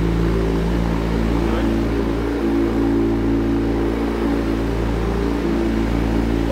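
A loud, steady Kawasaki Z1000 motorcycle engine with an aftermarket exhaust drones close by with a raspy tone, holding high revs throughout without letting off.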